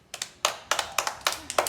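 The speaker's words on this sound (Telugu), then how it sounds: "మరి క్లాప్స్ ఇవ్వండి నాన్నకి." Hands clapping for a child at home, about seven sharp, evenly spaced claps close up, with no talking.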